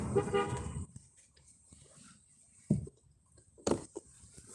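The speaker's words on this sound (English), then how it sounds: "I don't think they were honking at me." A car horn honks in a street in Tillamook, Oregon: a long blast at the start, then two shorter toots a second apart, heard at moderate distance with no talking.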